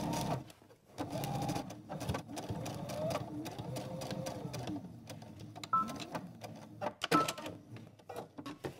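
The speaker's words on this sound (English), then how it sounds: "Now I'm gonna go ahead and switch over to a basting stitch and I'm gonna sew" A sewing machine runs a long basting stitch along a dress seam, its rapid needle chatter continuing for several seconds with brief pauses and changes in speed; no speech.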